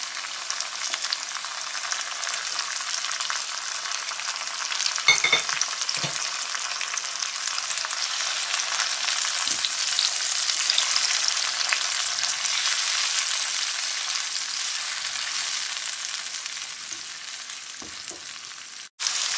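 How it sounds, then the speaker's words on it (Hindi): Chopped tomatoes frying in a pan for bhindi masala, a steady bright sizzle lasting throughout with a few soft stirring scrapes and knocks, close by, with no one talking. "अब हम इसमें टमाटर डाल देते हैं जो हमने अभी कट किए हैं।"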